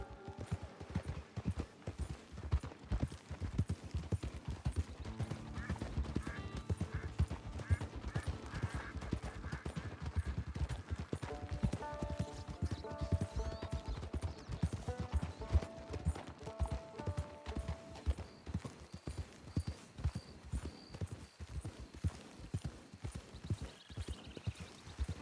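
Horse hooves clip-clop steadily as a rider travels toward a camp in the video game Red Dead Redemption 2 Online, a continuous rhythmic trot with a faint whinny and background game music throughout.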